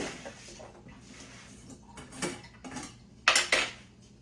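A spoon taken out of a cutlery drawer in a home kitchen: quiet metallic clinks and rattles, a few sharp jingles near the end, close and faint.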